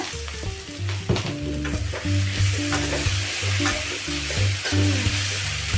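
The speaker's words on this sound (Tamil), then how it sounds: "இப்போ இதில் ரெண்டு மீடியம் சைஸான தக்காளி சேர்த்து இதையும் வதக்கிக்கலாங்க" Medium tomatoes sautéed in a pan for hotel-style spicy chutney, with a loud, steady sizzle of frying and repeated scraping stirs close up, and no talking.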